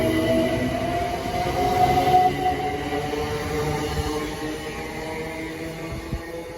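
A train passes through Harrow & Wealdstone station, a loud, steady rolling rumble with a humming drone that swells slightly midway and then eases, with no voices over it.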